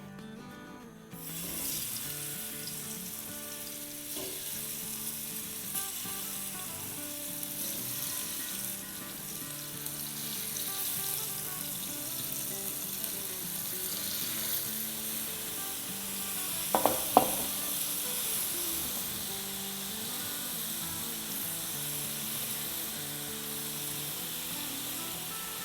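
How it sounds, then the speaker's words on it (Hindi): Chicken frying in a few tablespoons of oil in a preheated pan on a medium-low flame, a steady close sizzle and crackle running throughout with a couple of sharper pops near the end. "इसमें डालेंगे अब हम अराउंड 2 से 3 टेबलस्पून तेल और अब अपनी चिकन डालेंगे"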